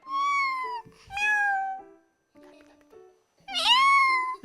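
A person imitates a cat with a few drawn-out, rising and falling meows, close and clear, with short pauses and a quieter murmur between them.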